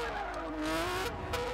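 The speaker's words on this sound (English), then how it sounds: "We hit the wall." A race car in Gran Turismo 6 at Goodwood Festival of Speed skids with a loud, sustained tire squeal that bends downward in pitch, an engine roaring underneath and a brief hit near the end.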